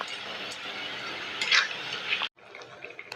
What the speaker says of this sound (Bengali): ভালোভাবে নাড়াচাড়া করে নেব।